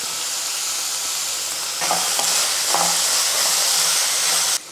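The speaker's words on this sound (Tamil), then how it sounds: "இப்போ வெங்காயத்துக்கு வந்து கொஞ்சம் உப்பு சேர்த்து வதக்கிக்கலாம்" Onions sautéing with salt in a pan for a home lunch, giving a steady, close broadband sizzle with a few soft stirring scrapes and taps, continuing alone throughout before a sudden cut at the end.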